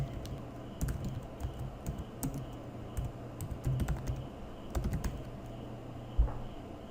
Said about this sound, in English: and type in your text.